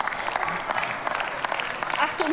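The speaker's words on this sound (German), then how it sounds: "wer hier bei der Linken klatscht und wer nicht" Scattered clapping from members of a German parliament during a debate, a rough patter of hands running through the whole stretch while a voice talks over it.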